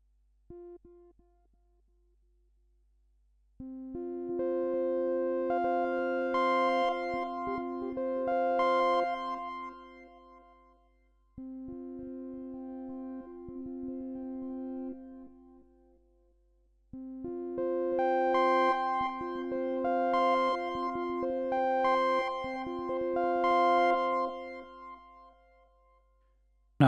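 Access Virus synth notes played across several octaves, with key-follow opening the filter only slightly so the high register stays dark; sustained tonal phrases in three bursts with short pauses, no talking.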